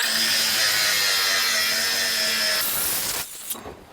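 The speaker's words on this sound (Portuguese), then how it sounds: "para vocês verem aí que para lixar ela passou no teste" A power sander from a Nakasaki five-tool kit working a surface with a loud, steady whine and rough grinding rasp, close up, holding constant before winding down and cutting out near the end.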